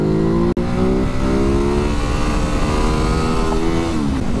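A Ducati Hypermotard 950 motorcycle engine revs loudly and steadily close by, climbing in pitch through the gears with a brief cut near the start, with no voices over it.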